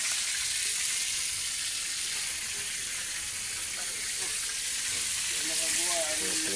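Tilapia frying in hot oil, a loud, steady broadband sizzle that hisses continuously throughout, with faint stirring and a brief soft voice toward the end.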